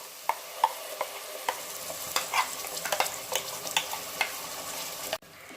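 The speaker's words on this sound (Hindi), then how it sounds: "अभी हम इसको फ्राई होने के लिए रख देंगे।" Spice paste with chili and turmeric powder frying in a pan for a drumstick and potato curry, a steady close sizzle broken by scraping stirs and clicks, ending with an abrupt drop.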